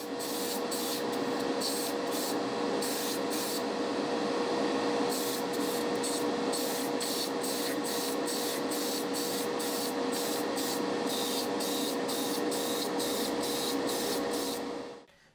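Spray can laying a heavy final coat of orange paint on a scale model, a steady close hiss running unbroken for about fifteen seconds before cutting off.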